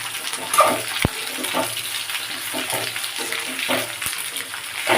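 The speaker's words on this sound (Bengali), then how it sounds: "বেগুন আর ফুলকপিটাকেও দিয়ে দিলাম" Small-cut eggplant and cauliflower pieces fry in oil with a steady, crackling sizzle, broken by a couple of sharp clicks from the pan. No one speaks.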